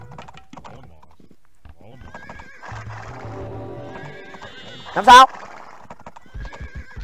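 Horses in the Age of Empires video game, clip-clopping hooves and a sharp neigh amid battle noise, with a commentator's voice briefly over the mix.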